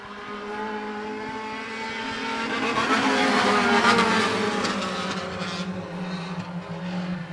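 Race cars roar around the oval at Sweatt's Concrete Thunder, a pack of engines swelling louder as they pass, peaking midway, then fading slightly with a constant droning buzz.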